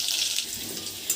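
Potato quarters, salted and turmeric-dusted, fry in hot mustard oil with a brief, dense, steady hiss close by.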